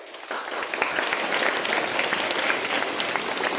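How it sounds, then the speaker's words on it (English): Students at a Catholic school morning assembly give a round of applause, a full, dense wash of many hands clapping steadily for several seconds, moderately close and loud, with no clear speech. "Give a round of applause."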